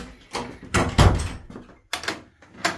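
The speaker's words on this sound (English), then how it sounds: "Lovely old door, loads of old oak." An old oak door in a chapel building is worked open, giving several knocking thumps and creaking, rattling bursts with short pauses between, heard up close.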